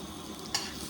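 Butter melting in a pan for paneer butter masala gives a steady, soft sizzle with a brief brighter crackle midway, close and alone.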